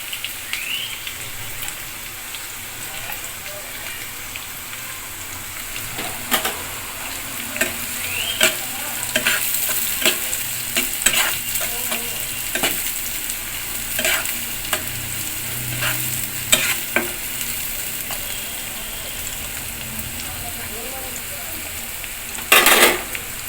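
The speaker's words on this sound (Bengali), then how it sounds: "বেরেস্তা ভাজার সময় বন্ধুরা চুলার আঁচটা একটু মিডিয়ামের একটু বেশি বেশি রাখবেন।" Sliced onions frying into crisp beresta over medium-high heat for chicken roast, a continuous crackling sizzle punctuated by frequent sharp spatula scrapes and knocks against the pan, close and without speech.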